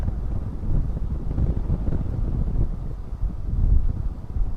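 Gusty wind buffets the microphone outdoors at DFW Airport, a steady low rumble with surges and swells, at about 16 miles an hour, loud and continuous with no voices.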